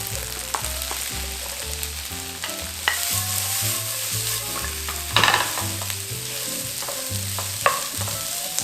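Tofu, mushrooms and celery being stir-fried in a pan while making a vegan white sauce for lasagna: a steady, loud sizzle and hiss with scraping and stirring knocks throughout, under background music.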